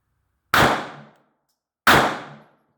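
A Taurus GX4 pistol fires two rounds, each a sharp, loud crack with a short ringing decay, spaced about a second and a half apart with silence around them.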